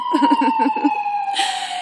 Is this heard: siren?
yes